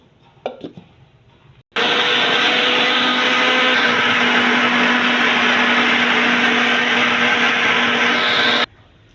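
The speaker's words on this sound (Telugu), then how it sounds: "జార్లో వేసాను, మిక్సీ పడదాం ఇప్పుడు." A few light clicks as the jar is set, then a kitchen mixer grinder roars into a loud, steady whir blending cooked tomato chutney for several seconds before cutting off abruptly.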